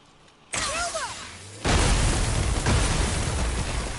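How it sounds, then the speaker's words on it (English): A loud explosion in the God of War (2018) video game hits about halfway through and roars on as a sustained, dense rumble, following a stretch of game sound with whooshing effects. "Now that's an explosion."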